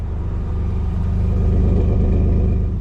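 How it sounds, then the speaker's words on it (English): A 2023 Ford F-150 PowerBoost hybrid truck starts on its own, its engine settling into a loud, steady low rumble that swells slightly, close by with no talk. "the truck just turned on by itself"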